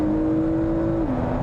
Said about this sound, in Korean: 이게 지금 터보 엔진인데도 회전수가 거의 7000rpm까지 올라가거든요